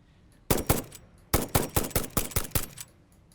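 Rapid gunfire from a ranged weapon in the factory-building game Satisfactory: two quick shots, then a closer run of about eight sharp reports in a steady rhythm, loud and clear with no talking over them.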